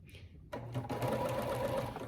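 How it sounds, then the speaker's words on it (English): A sewing machine runs steadily along a quilt's long side seam at a quarter-inch allowance, starting after a brief quiet moment and continuing as a close, even whir to the end. "we're just going to use a 1/4 inch seam allowance and sew right down the side seam here long ways"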